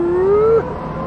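An electric-converted BMW M3 E36 accelerates with a clean rising motor whine that climbs steadily in pitch for about half a second, then cuts off abruptly, leaving a low hum behind.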